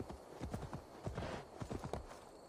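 Horse hooves clip-clop in steady rhythmic steps in Assassin's Creed Valhalla, moderately close, with a faint background bed and no talk.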